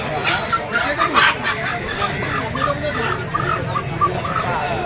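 Chickens for sale at the Duburi village haat market, with scattered clucks rising over a busy, constant crowd murmur and nearby voices.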